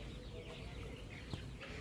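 Soft clucking and chirping from a group of two-month-old Kaveri chickens in a poultry shed, faint and indistinct under a steady rushing background noise.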